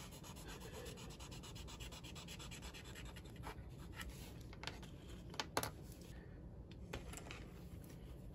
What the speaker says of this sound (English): Now we'll cut back the roofing.